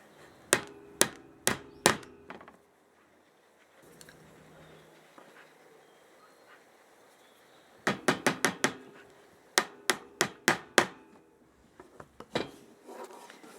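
Hammer taps nailing wax foundation into a wooden 14x12 beehive frame, two close bursts of sharp, evenly spaced strikes separated by a quiet pause.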